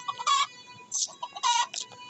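Chickens in a Minecraft-like video game cluck in short repeated bursts, several close calls with brief gaps between them, heard alone with no talk.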